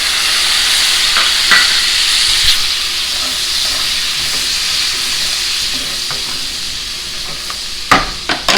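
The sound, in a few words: Worcestershire and lemon juice sizzling in steak pan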